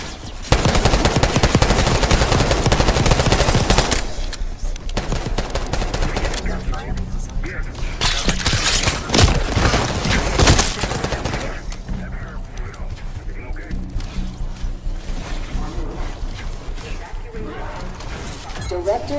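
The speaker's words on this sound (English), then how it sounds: "Gunfire? Yes. Sounds like it's coming from one of the forward boys." Bursts of automatic gunfire in the Call of Duty Black Ops 6 campaign, dense rattling volleys that later thin into scattered shots, with voices talking over the fight.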